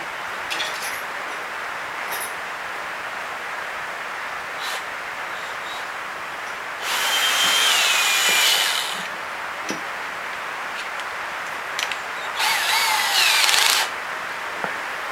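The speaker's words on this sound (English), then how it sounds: "Then I'll drill it." Power drill boring into a small wooden hook piece, two short bursts of high whining drilling a few seconds apart against quiet workshop background with light ticks.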